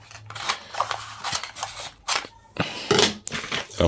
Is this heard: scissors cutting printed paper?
yes